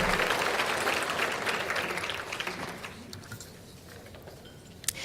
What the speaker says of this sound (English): Let's give a big round of applause for the City of Coeur d'Alene Police Department and the beautiful voices of the students of Coeur de Christ Academy.